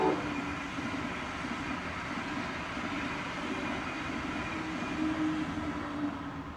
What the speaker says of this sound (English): Jesus Christ, that's a hell of a train.